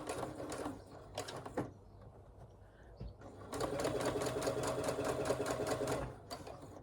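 A sewing machine back stitching on a handmade project bag runs in short bursts, then settles into a steady, fast mechanical whir for a few seconds before stopping, close and clear with no talking.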